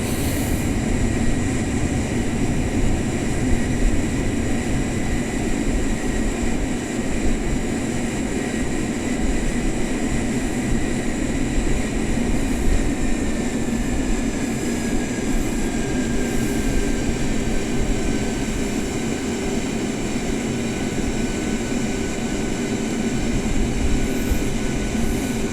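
Jet engines of a Boeing 747-400 cruising in flight in the FSX flight simulator, a steady loud broadband roar with a constant hum and no pauses throughout.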